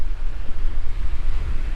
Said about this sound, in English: It is windy this time.